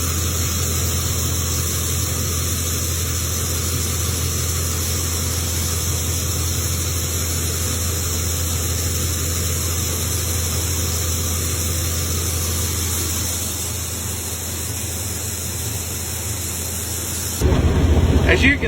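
An old 1440 combine harvester shells 150-bushel corn while creeping along at about 2.5 mph, a steady, loud, broadband machine roar with a constant low drone that holds throughout and briefly jumps louder at the end.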